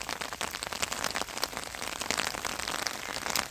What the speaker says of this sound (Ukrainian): Знову почався дощ.